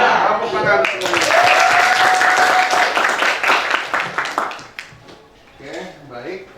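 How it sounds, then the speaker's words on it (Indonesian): A classroom of students claps together at a teacher's request, a dense burst of applause that fades over several seconds while voices and chatter carry on over it. "Tepuk tangan semuanya."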